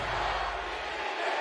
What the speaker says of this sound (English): You can hear the roar of the crowd once more